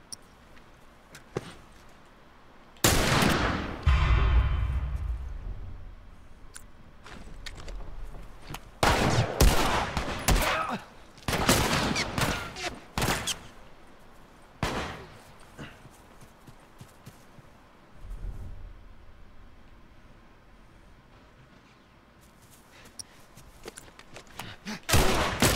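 Gunfire in The Last of Us, loud bursts of shots and sharp impact crashes scattered across a long stretch, separated by quieter gaps, with brief percussive hits throughout.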